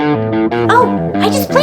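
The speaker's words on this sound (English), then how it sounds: "This is the sound of a guitar." Electric guitar playing a short melodic phrase of several bright plucked notes, loud and close, with no talking.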